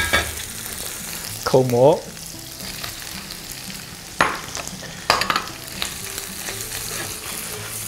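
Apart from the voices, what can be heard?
stir-frying shrimp and button mushrooms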